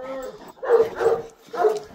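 A large Volkodav dog gives three deep, close barks, the first a short low woof followed by two louder, evenly spaced barks.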